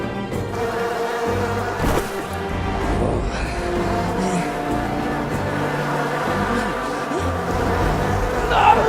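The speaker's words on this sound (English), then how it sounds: "Not the bees! Not the bees!" Bees swarm in a dense, continuous buzzing drone in the SMITE game trailer for Ah Muzen Cab, God of Bees, loud and close, with a fluttering texture and a brief swell near the end.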